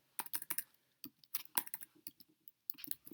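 Typing on a computer keyboard while working on a Google Form assignment, heard as irregular bursts of close, crisp key clicks with brief pauses between runs, no voices.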